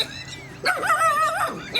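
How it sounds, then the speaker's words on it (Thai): A dog barks outdoors with high, whining yelps, one drawn-out cry followed by a short yip, fairly loud and close with no talking over it. "นกก็ร้องหมาก็เห่า"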